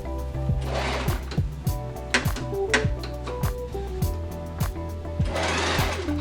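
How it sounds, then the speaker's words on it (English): A sewing machine stitches a coat lining in a run of short, rhythmic bursts, its motor whirring steadily between close, sharp mechanical clacks, with no talking. "Once all my lining was cut, I could finally begin with sewing."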